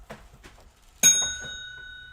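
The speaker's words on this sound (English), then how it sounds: "Ringing a bell for Greg Hutchinson, claiming Sith." A single bell rings once during a live collectibles barter show, a bright metallic strike with a long, clear decay that rings out close and fairly loud, preceded by faint murmuring voices.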